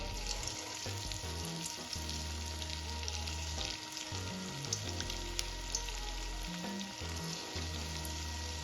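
Small Chinese pakoras fry in hot oil over a medium gas flame, a dense continuous sizzle with crackling pops, close and steady throughout, with faint clinks in the background.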